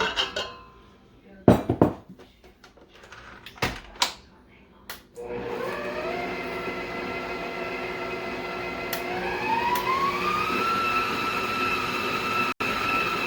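Walnut banana pound cake batter is worked in a bowl: a few clattering knocks of utensils against the bowl, then an electric mixer whirs steadily, its pitch climbing as the speed rises.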